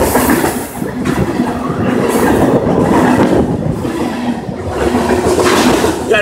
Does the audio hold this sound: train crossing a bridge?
yes